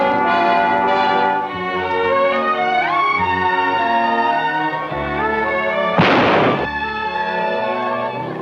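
A single sharp gunshot cracks out about two-thirds of the way through, loud and brief, over a continuous orchestral score in a 1948 adventure film.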